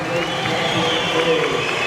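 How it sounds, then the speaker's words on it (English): A crowd booing after a split decision at a Brazilian jiu-jitsu European Championship match, a steady loud arena roar of disapproval with a voice talking over it. "The crowd goes booing, expecting Jonas win, but it was a good fight."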